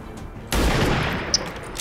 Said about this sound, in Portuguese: eu preciso acertar esse tiro